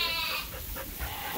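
Sheep bleating in a barn during lamb handling, a strained cry in the opening half-second followed by lower bleats and shuffling livestock noise, fairly close and without talk.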